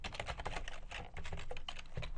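Steady, fast typing on a computer keyboard while entering JavaScript code, with dense rapid key clicks running continuously at close range.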